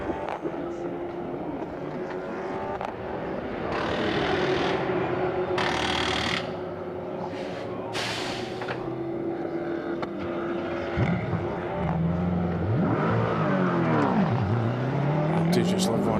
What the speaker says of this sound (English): the sights and sounds of the pit stop as the hydraulic jacks get released